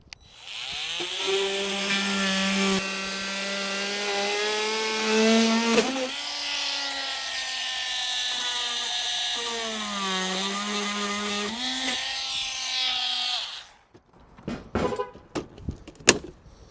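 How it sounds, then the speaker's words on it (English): Oscillating multi-tool cutting through the plastic front fascia of a 2018 Jeep Cherokee, a loud, close, sustained buzzing whine whose pitch dips and rises as it cuts, ending with a few scattered knocks and clatters. "And I'm going to use a multi-tool to cut this out."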